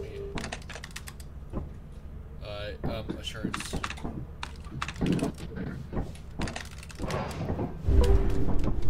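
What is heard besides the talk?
keyboard typing on a terminal in the video game Lethal Company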